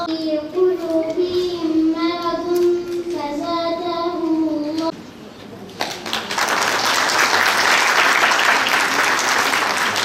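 An audience claps loudly and steadily at a Quran course event for successful students, applause swelling in after a child's recitation.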